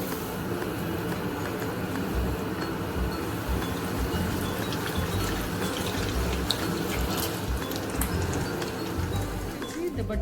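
Stuffed baturas deep-frying in hot oil over a high flame, a steady dense sizzle and crackle that holds evenly for the whole stretch, with a voice talking over it.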